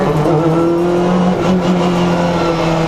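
A loud 2015 Honda Civic Type R BTCC touring race car engine droning steadily at high revs from inside the car at Silverstone, constant and close with no pauses.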